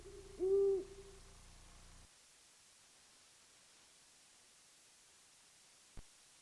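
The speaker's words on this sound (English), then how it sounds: "Every night the wolves howled around my cabin, and the owls hooted." An owl hooting at night: one clear, low hoot near the start over faint hiss, then near silence with a single small click later.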